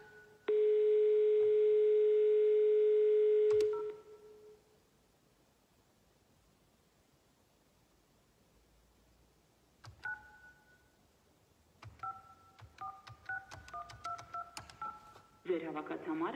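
A telephone dial tone sounds loud and steady for about three seconds, followed by near silence, then a quick series of keypad dialing beeps in short bursts.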